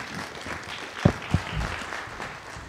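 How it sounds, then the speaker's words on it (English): Steady applause from a conference audience after a speech fills the clip, with two sharp knocks standing out near the middle. "A round of applause, please."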